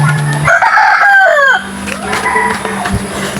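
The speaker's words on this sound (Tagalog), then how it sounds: "Pero ayan, tumitilaok na siya." A rooster crows loudly and close by, one drawn-out call, while hens cluck around it in a backyard flock fed in the morning.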